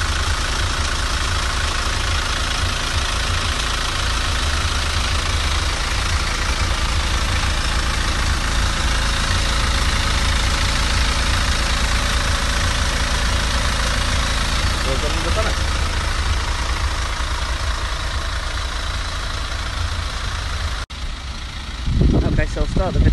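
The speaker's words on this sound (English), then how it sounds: "the engine's been running since the start of the video" An engine idles steadily with a smooth, even low rumble and no knocks, close and loud throughout, with a brief shuffle of handling noise near the end.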